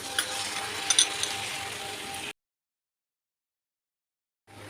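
Ginger, cumin, coriander powder, mustard, dried and green chilies and turmeric sizzle in hot oil in a pan for shukto, a steady close hiss with a few light clinks, then a sudden gap of silence before the sizzling resumes.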